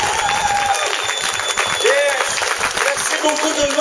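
Audience applause at an outdoor music festival in Notre-Dame-de-Pierreville, steady clapping filling the whole moment at a lively, fairly loud level, with scattered whistles and voices in the crowd.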